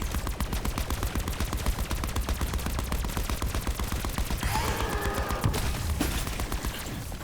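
Rapid, steady bursts of heavy automatic gunfire from a big gun in a video game, loud and continuous throughout with no talking.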